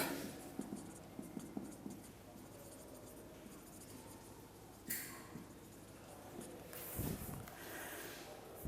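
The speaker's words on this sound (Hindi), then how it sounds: "फिर से मैं इसको लिख देता हूं।" An accounts problem being written out during a class: soft, faint scratching strokes of writing come in irregular short bursts over a quiet background hiss, with a few louder rustles and bumps.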